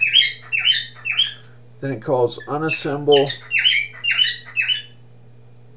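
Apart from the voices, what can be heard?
bird chirping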